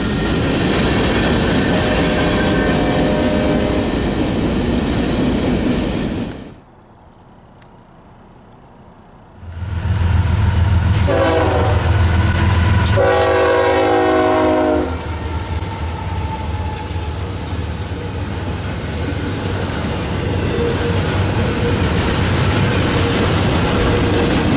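Union Pacific and BNSF freight trains roll past with loud rumbling and clattering wheels, a brief quieter gap, then a nearby locomotive horn sounds in several sharp blasts over the heavy rolling noise.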